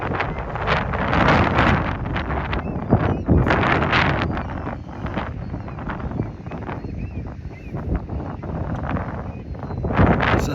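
Outdoor wind gusts buffet the microphone in loud, uneven rushes and rumbles, rising and falling continuously with no voices.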